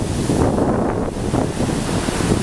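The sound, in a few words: wind on a beach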